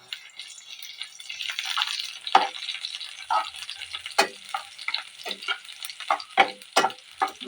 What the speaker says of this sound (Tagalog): Tuunan natin ang bawang.